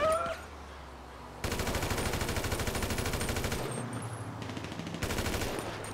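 Automatic gunfire in GTA 5 rattles in a rapid, sustained stream from about a second and a half onward, loud and close, with shifting weapons and a brief pause before it resumes.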